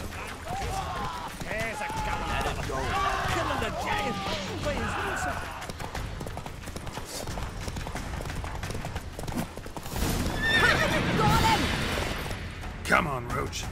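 A horse gallops in The Witcher 3 game, rapid hoofbeats thudding under music and shouted speech, with a harsher burst of clatter and noise toward the end.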